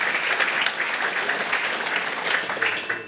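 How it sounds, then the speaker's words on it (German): A conference audience at a panel discussion on Europe breaks into loud, sustained applause, a dense even clatter of many hands throughout. "Ja, Applaus."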